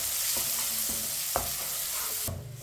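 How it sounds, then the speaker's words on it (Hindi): Raisins fry in semolina halwa in a pan over a low flame, giving a steady sizzle broken by a few soft stirring scrapes before the sound drops away at the end, with no voices. "किशमिश डाल के आपने आधा मिनट तक पका लेना है।"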